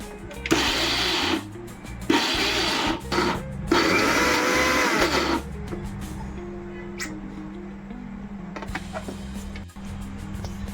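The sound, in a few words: mixer grinder grinding banana flower mixture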